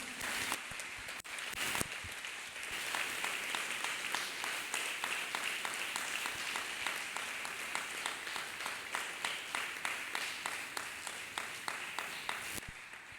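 A church congregation claps hands in a steady, rhythmic beat, many hands together at a moderate distance, keeping a regular pulse of roughly two to three claps per second after a ragged start.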